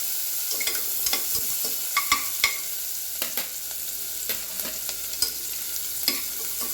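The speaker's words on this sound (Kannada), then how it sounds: "ಈಗ ಹೆಚ್ಚಿಟ್ಟುಕೊಂಡ ಹಸಿಮೆಣಸು, ಹಾಗೆಯೇ ಹೆಚ್ಚಿಟ್ಟುಕೊಂಡ ಈರುಳ್ಳಿ ಹಾಕಿ ಒಂದು ಸಲ ಚೆನ್ನಾಗಿ ಫ್ರೈ ಮಾಡಬೇಕು" Chopped green chillies and onion fry in a pan, a steady sizzle running throughout with frequent scraping clicks and taps of a stirring spoon; close and moderately loud, no voices.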